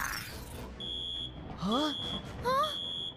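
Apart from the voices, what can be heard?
alarm going off in a cartoon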